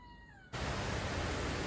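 A house cat gives a short, faint meow, followed at once by a sudden loud burst of hissing noise.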